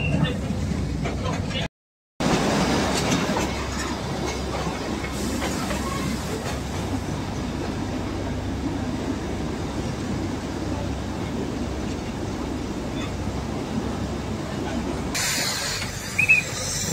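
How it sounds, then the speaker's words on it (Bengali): The Matheran toy train runs along the hill railway with a steady rumbling and hissing rail noise throughout, a brief dropout early on, and people talking over it. "টয় ট্রেনটা যাচ্ছে"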